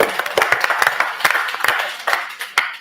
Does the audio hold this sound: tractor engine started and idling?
no